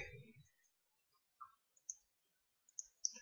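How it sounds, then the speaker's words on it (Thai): Several quiet, crisp clicks of a computer mouse right-clicking during an online game, spaced irregularly across a few seconds in an otherwise near-silent room, with a faint bit of voice at the start. "อย่างผมคลิกขวาตรงนี้"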